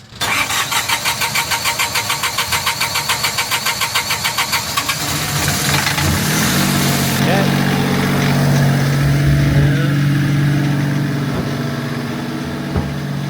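A boat engine cranks with a rapid rhythmic churn, catches and settles into a steady running rumble with a mechanical whine, close and loud.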